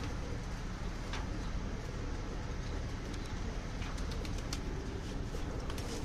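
Outdoor ambience with racing pigeons fluttering and faint cooing, broad steady background noise and a few distant bird calls, no talking.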